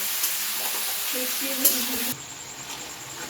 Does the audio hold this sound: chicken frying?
yes